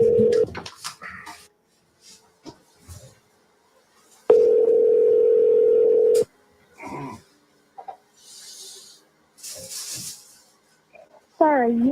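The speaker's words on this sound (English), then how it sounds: "The phone ringing?" A phone call rings out in several long, steady electronic tones with short breaks between them, heard close and clear, with brief bits of talk and breathing in the gaps.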